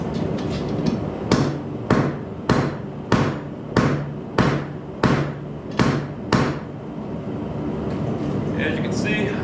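A hammer strikes red hot metal on an anvil beside a two-burner forge, about ten sharp, ringing blows in an even rhythm, close and loud, with the forge's roar steady underneath.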